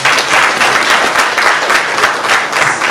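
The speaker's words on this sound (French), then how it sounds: "Applaudissez pour lui" An audience at a Malian diaspora gathering breaks into sustained, dense applause for a speaker, a loud even wash of clapping across the whole stretch.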